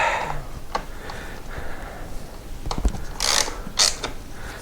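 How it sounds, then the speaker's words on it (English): Ratchet wrench tightening a bolt on a Royal Enfield Himalayan 411 during winter chain maintenance, with a few close ratcheting clicks and metallic creaks between short pauses and no talk. "Tighten him down."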